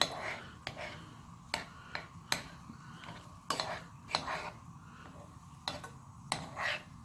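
Chili stirred in a nonstick pot with a utensil, then a lid set on: irregular scraping clicks and sharp knocks, close and moderately loud, with quiet talk in between.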